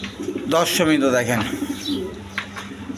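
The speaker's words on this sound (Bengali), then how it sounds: "একবারে ডিম পাড়ার প্রস্তুতি নিতেছে ডাউগা কবুতর" A pair of Dauga pigeons on a farm, readying to lay eggs, coo softly in a low rolling rhythm while someone talks over them nearby.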